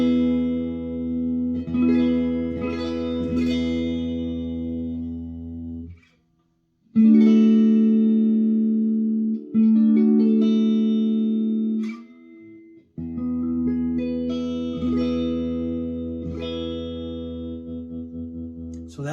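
Sustained notes and chords from a Harley Benton TE-62DB electric guitar with heavy effects, ringing out in long phrases separated by brief silences; no talking.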